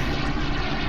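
Steady drone of a plane engine in the Garry's Mod video game, loud and continuous with no talk over it.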